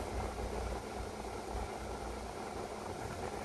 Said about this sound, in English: Got a couple exhaust fans right there.